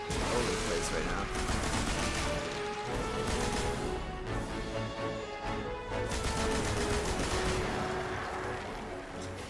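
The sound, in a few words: heavy gun firing in video game Destiny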